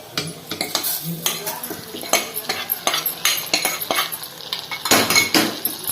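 A ladle scrapes and stirs kalkandu pongal, a sweet rice dish with rock sugar and jaggery, in a metal pot. The stirring comes close and continuous, with repeated clinks and scrapes against the pot, a faint sizzle beneath, and no talking.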